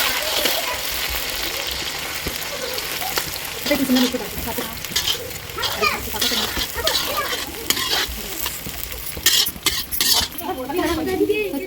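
Sliced onion and capsicum frying in hot oil in a wok, a continuous close sizzle broken by repeated scraping stirs of a spatula, with a voice speaking underneath and a cough partway through.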